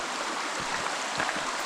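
A river flowing at a wild camp in England's Lake District, giving a steady broadband rush of moving water that holds fairly loud and even throughout with no voices.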